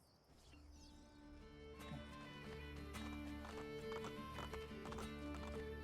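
Hooves of a horse clip-clopping at a gallop in the video game Assassin's Creed Brotherhood, a steady rapid rhythm with a whinny, layered over a game music bed that builds louder, with no talking.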